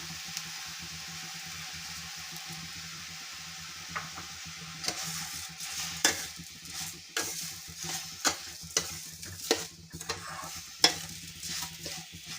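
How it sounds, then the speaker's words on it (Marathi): Sugar being stirred into grated carrots in a pan for carrot halwa, starting with a quiet sizzle and building into a rhythmic run of scraping, clattering spatula strokes against the pan, close up with no voices. "ही साखर अशी आपल्याला मिक्स करून घ्यायची आहे गाजराच्या खिसामध्ये"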